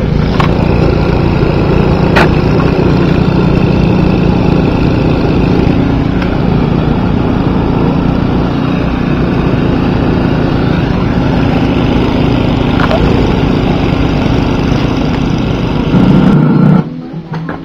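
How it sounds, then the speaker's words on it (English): A snow blower runs loud and close during a blizzard, a continuous engine drone with a steady churning roar that cuts off near the end. "So, I'm going to go start blowing snow."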